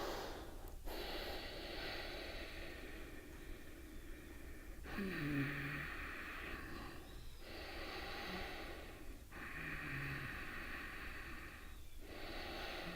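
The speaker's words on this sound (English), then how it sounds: "Take a few nice deep breaths." Slow deep breaths drawn in and let out during a calm yoga session, each long airy inhale and exhale alone and close, with soft pauses between them.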